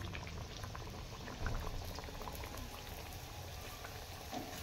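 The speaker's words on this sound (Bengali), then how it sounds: "এগুলো আমি পরপর ভেজে নিচ্ছি" Khaja sweets frying in oil in a wok, a soft continuous bubbling sizzle, faint and even throughout, with no voices.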